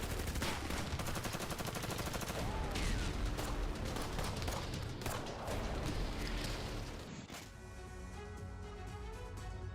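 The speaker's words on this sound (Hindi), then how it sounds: "यहां पर यूक्रेनी सैनिकों पर की गई है ताबड़तोड़ फायरिंग" Rapid gunfire from war footage of a close-quarters fight with Ukrainian soldiers, loud dense bursts of shots with echoing cracks that fade out near the end.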